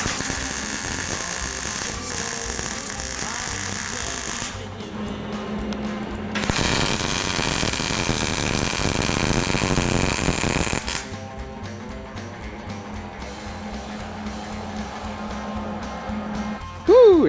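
Old car parts are welded, giving a steady, harsh crackling buzz that runs in long continuous stretches with a brief pause between, close and fairly loud, with no talk over it.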